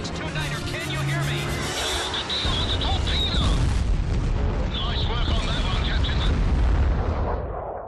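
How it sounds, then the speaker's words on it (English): Enemy ships fire explosive shells in the WWII aerial combat game Blazing Angels 2: Secret Missions of WWII, heard as heavy, rumbling booms and blasts building over aircraft engine drone, with a voice speaking over the opening seconds. "The enemy ships are opening fire."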